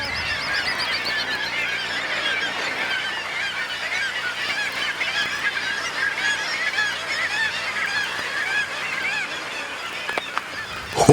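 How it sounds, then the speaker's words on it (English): Dense colony of guillemots, both Brünnich's and common, packed along cliff ledges, giving a continuous loud chorus of harsh, overlapping growling calls throughout with no pauses. "Above them, every inch of ledge is loaded with birds."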